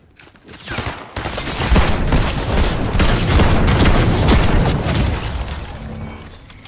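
Dense, sustained barrage of gunfire and booming blasts from a Halo video game match, loud and continuous for several seconds after a brief opening burst, with no talk over it.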